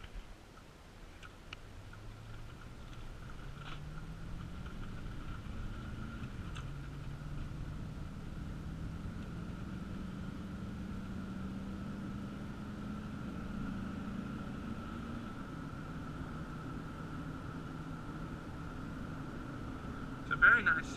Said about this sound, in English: I'm going to give you a little acceleration clip.